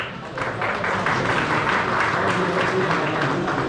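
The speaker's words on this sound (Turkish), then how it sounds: "Alkışlarla uğruyoruz, sağ olsunlar." Crowd applause at a fishing competition award ceremony in the Takoran valley: a dense, steady wash of many hands clapping at close range for several seconds, with voices mixed faintly into the noise.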